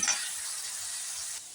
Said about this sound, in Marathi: हे बघा आता कांदा परततोय है ना